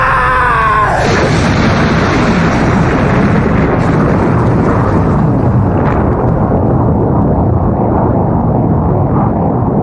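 An explosion effect in a Naruto stage show erupts as a loud, sustained roar that swells suddenly and then rumbles on as a dense, heavy wash, with a brief tonal sound just before it.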